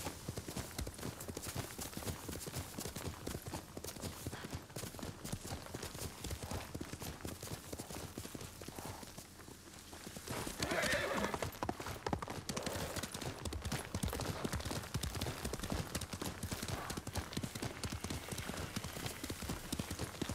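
Rapid, steady hoofbeats of a galloping horse in the video game Ghost of Tsushima continue throughout, with a faint voice briefly underneath and a dip in the pounding midway.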